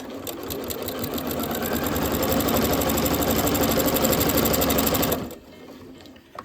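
Sewing machine stitching binding onto a fabric table runner, a fast, steady mechanical rattle running continuously at close range before stopping abruptly near the end.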